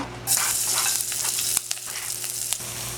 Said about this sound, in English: once the oil is hot, you add your garlic, pimento, onion